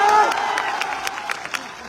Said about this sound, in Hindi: इसके लिए जोरदार ताली बजाओ सब लोग।